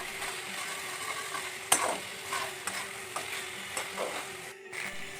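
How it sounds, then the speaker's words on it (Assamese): Garlic-ginger paste and cumin seeds fry in a pan while being stirred, giving a soft continuous sizzle punctuated by repeated scraping strokes and a sharp clack, fairly close and moderately quiet. "এতিয়া মই নহৰু আদাৰ পেষ্টখিনি দিলোঁ আৰু লৰাই থাকিলোঁ।"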